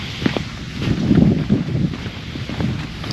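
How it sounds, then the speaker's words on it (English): Wind blowing outdoors at a small state park marina on a chilly fall day, steady loud buffeting rumble across the microphone with gusty swells and no speech. "It's a little chilly, a little windy."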